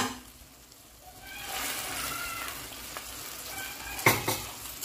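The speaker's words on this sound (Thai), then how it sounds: "พอน้ำได้เดือดแบบนี้แล้วนะคะเอาเส้นใส่ลงไปเลยค่ะ" Noodles for a Thai stir-fried noodle dish are stirred in boiling water in a pan. A soft bubbling hiss with light stirring swishes builds to a sharper clatter of utensil against pan near the end.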